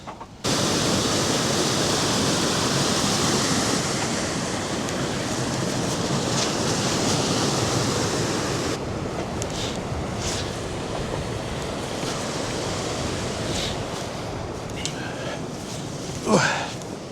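River rushing through Langstrath Valley in the Lake District hills, a loud, steady broadband roar of flowing water close by, with a few faint knocks and rustles near the end.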